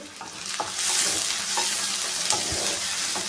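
Crushed ginger and garlic fry in a hot pan with a steady, close sizzle, broken by a few short stirring scrapes of a spoon against the metal.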